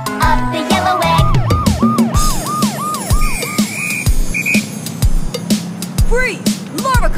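Toy police car siren wailing in repeated rising-and-falling whoops, with electronic beeps and a cartoonish, busy background of playful sounds, loud and close.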